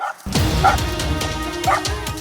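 Hunting dogs bark and yelp in excited bursts, with whimpering cries in between, while chasing a monitor lizard through muddy water in central Java.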